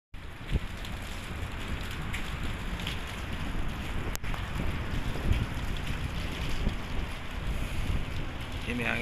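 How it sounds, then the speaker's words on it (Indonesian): Strong wind roaring steadily at a rest area overlooking the view, a dense continuous buffeting with wind noise on the microphone throughout. "Ini anginnya kencang guys,"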